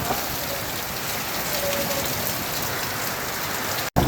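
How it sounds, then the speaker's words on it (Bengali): Heavy monsoon rain pours down steadily in Sylhet, a dense continuous hiss of drops on surfaces, close and loud, briefly cutting out just before the end. "যে হারে বৃষ্টি হচ্ছে"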